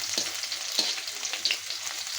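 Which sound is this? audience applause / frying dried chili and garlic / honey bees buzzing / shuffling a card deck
frying dried chili and garlic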